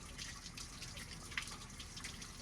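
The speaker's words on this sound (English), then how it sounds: "You're just running cold water through the block." Cold water running through a GMC K2500 farm truck engine block during a flush, a quiet steady trickle and dribble with faint drips over low background noise.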